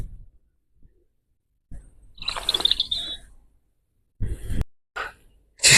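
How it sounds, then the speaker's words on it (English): A robin sings outdoors on a nature walk in a short bright burst of high twittering notes, with a few fainter chirps and soft breathing or rustling around it in a mostly quiet setting. "That robin. Where is he?"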